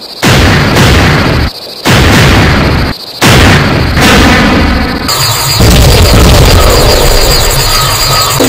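An artillery gun fires in a War of the Worlds drama, with very loud, saturated blasts separated by brief gaps, followed by a long rumbling roar.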